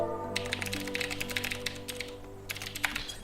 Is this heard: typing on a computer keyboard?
yes